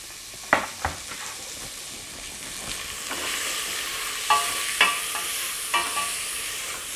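Celery and carrot sauté in a hot pan for a carrot and ginger soup, giving a steady close sizzle broken by several sharp scrapes and knocks of a spoon stirring against the pan.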